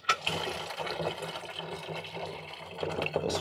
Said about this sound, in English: Let's fill up some water.